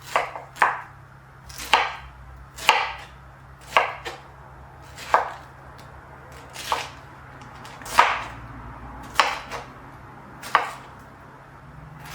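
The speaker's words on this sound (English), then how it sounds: "I got rid of the skin and I chopped them into rough small chunks." A peeled, crownless medium pineapple is cut into rough small chunks on a board: about a dozen crisp knife chops at a steady, unhurried pace, close and fairly quiet, with no talk.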